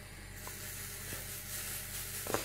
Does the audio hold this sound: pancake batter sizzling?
yes